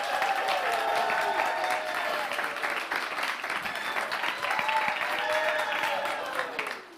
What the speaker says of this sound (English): Just applaud. Just applaud.